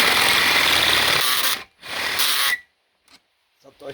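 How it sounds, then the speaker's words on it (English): An old, worn electric drill with a loosening chuck whirs loudly and steadily for about a second and a half, cuts out briefly, then runs again for under a second before stopping, followed by faint rustles. "This is my old drill here."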